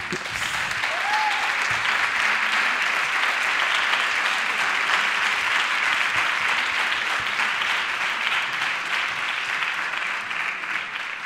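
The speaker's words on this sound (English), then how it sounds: "Could you please give her a round of applause?" A seated audience applauds a woman who has just stood up, the clapping dense and steady for the full eleven seconds at even volume, with no voices over it.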